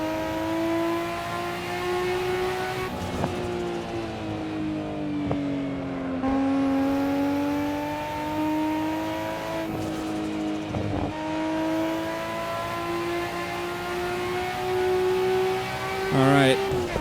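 A Nissan Skyline GTR R34 in Assetto Corsa at the Nürburgring holds a steady, loud engine note under load. Gear shifts break it in several places, and a brief climbing rev comes near the end.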